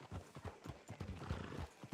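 Horse hooves clip-clopping on a town street in the video game Red Dead Redemption 2, a steady close trotting rhythm of hoofbeats with a faint whinny.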